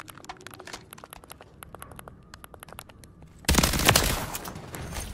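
Rapid automatic gunfire in the Call of Duty MW3 video game cracks in repeated bursts, fairly close, then swells into a loud, dense barrage near the end.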